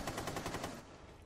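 A short, rapid burst of automatic gunfire from Rainbow Six Siege, about eight quick shots in a row that then fade into quiet room tone, heard fairly faint.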